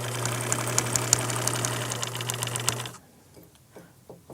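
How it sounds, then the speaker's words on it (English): Sewing machine running steadily while stitching a 3/8 inch seam on a shoe bag, a close, even mechanical whir with a rapid needle rhythm that stops abruptly near the end, leaving faint clicks. "I'm sewing with a 3/8 inch seam, back stitching at the end."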